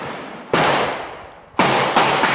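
A .40 S&W pistol firing powder-coated cast 170-grain bullets at an outdoor range: three sharp, loud shots, the first alone and the last two close together, each with a short echoing tail.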